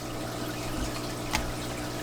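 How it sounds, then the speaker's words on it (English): Water drains out of a 40 gallon breeder aquarium with a continuous soft trickling, gurgling flow, fairly quiet and steady, with a brief splash or slurp just past the midpoint. "I'm going to drain the water out as much as I can"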